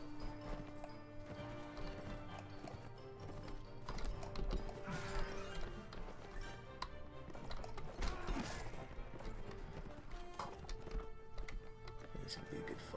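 Cavalry horses in Mount & Blade: Warband, a medieval battle game, with clip-clop hoofbeats, clanking gear and the odd whinny under steady game noise and spoken chatter.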